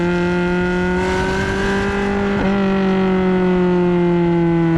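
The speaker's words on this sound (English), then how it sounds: "When you get that second stage trumpet coming in, it is the greatest noise on earth." A Ferrari 430 Scuderia or Challenge Stradale V8 holds a loud, steady high-revving howl up close, with strong harmonic tones, one brief shift-like dip midway before the note climbs on.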